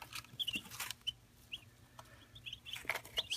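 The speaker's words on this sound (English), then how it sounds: "those are my chicks" Young chicks raised alongside Coturnix quail give soft clucks and high chirps, several brief calls scattered across a quiet indoor background, close by, with no talk.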